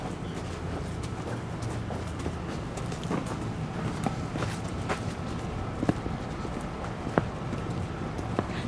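Racehorses walking around a busy racecourse ring, hooves clip-clopping in a steady, fairly close rhythm over a constant crowd-and-yard murmur, with a couple of sharper hoof strikes standing out.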